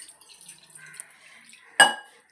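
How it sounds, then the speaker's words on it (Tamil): Water poured into a bowl in a home kitchen, a short bright splash and trickle after quiet faint clinks of dishes, close and clear. "கிண்ணத்தில் கொஞ்சம் தண்ணி ஊற்றிக்குவோம்."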